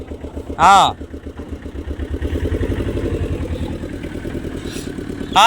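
A motorbike rides along and then pulls up and stops, its mid-pitched engine steady and fairly close before easing off, with people talking over it.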